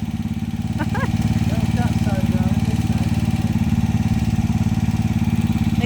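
A motorcycle engine idling close by, a steady loud low throb with a fast even pulse throughout, while someone talks over it.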